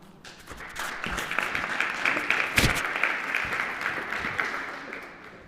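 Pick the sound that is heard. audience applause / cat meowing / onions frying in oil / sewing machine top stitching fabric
audience applause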